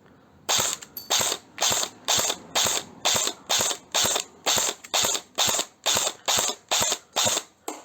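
A CYMA CM512 airsoft rifle fires about fourteen evenly spaced, sharp mechanical shots in a steady rhythm, each a crisp clack with a ratcheting gearbox snap, close and loud with no talking.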